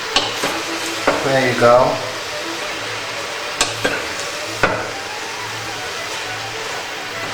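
Cabbage is stirred and fried in a pot for Macedonian cabbage soup, giving a steady close sizzle broken by scraping stirs and a few sharp utensil knocks, with a brief spoken remark partway through.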